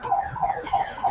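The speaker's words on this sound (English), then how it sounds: "Yeah, that's the alarm." An indoor building alarm sounds as a rapidly repeating electronic whooping tone, about four pulses in one second, heard at moderate distance and steady volume.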